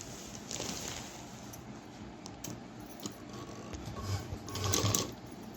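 A sewing machine stitches around a folded strip on a shopping bag made from an old gown, running as a soft, steady whir at moderate distance with a few faint clinks.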